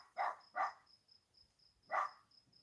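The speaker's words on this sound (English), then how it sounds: "Like the tone of her barking is becoming higher." A female dog barks three times, two quick barks then a third after a pause, her voice sounding strained and hoarse, mid-distance, over a steady high insect-like whine.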